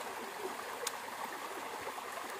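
A roadside stream of clear water flows after days of rain, a steady, soft rushing and trickling wash heard close and without a break.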